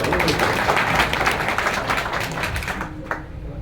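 A crowd claps steadily for a few seconds at a traders' meeting at Deodar panchayat, a dense patter of many hands that gradually thins and fades out.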